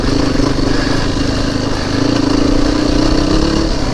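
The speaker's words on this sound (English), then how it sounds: "This is a enduro race bike." An enduro race bike engine drones loud and close, a steady rumble with a slight rise and fall in pitch throughout.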